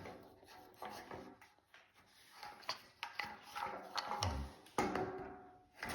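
Harmonica holder being screwed back onto its display stand: close rubbing and rasping wooden scrapes with small clicks and knocks, coming in irregular bursts with no talking.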